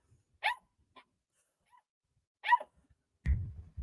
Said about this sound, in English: if he barks enough at Loki, Loki will eventually realize